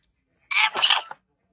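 A single sneeze at a baby's first birthday gathering, a short sharp burst with a brief trailing catch, close by and loud against a quiet background.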